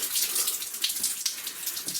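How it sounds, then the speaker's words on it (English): Water runs somewhere out of sight in a dark underground tunnel, a steady, hissing rush with small splashy fluctuations, fairly loud and continuous throughout. "Water's running out there somewhere for some reason"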